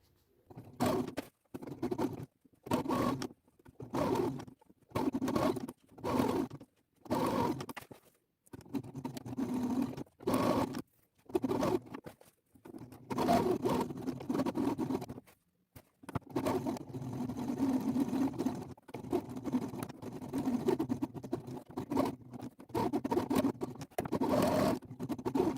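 A sewing machine stitching fabric for a suit, running in short bursts separated by brief pauses, then in longer continuous runs, close and fairly loud.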